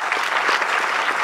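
Audience applause at a film festival awards ceremony, a steady dense wash of many hands clapping together, close and loud throughout with no voices.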